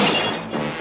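Mirrors shattering in an animated superhero cartoon: a loud, bright crash of breaking glass that fills the first half-second, then a second burst of shattering just after.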